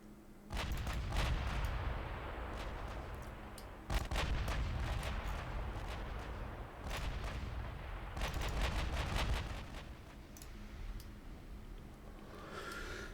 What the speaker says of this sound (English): Well, they're opening fire.